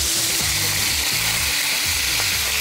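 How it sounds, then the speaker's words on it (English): Prawns, salted, fry in a hot pan with a loud, constant sizzle as they are stirred around, and soft scraping strokes sound through the frying. "Just stir the prawns around and season lightly with salt."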